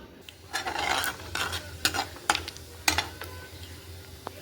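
Scraping and clattering as a spatula stirs vegetables being tempered in hot oil, with a soft sizzle underneath and a few sharp metallic knocks.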